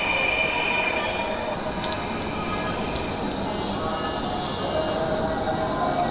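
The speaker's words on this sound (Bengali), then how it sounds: "অলরেডি একটা মেট্রো রেল এসে পৌঁছে গিয়েছে।" Dhaka metro rail train pulling into a station platform, a loud steady rumble of wheels on track with high squealing throughout, close by.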